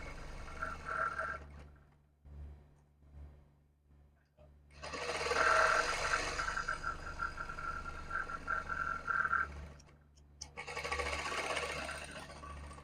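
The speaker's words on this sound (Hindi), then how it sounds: "तो हम डबल सिलाई लगा लेते हैं।" A sewing machine runs two bursts of rapid stitching, double stitching a salwar seam, with a sustained buzzing rattle in the middle and a shorter run near the end. Quiet handling sounds fill the pauses between.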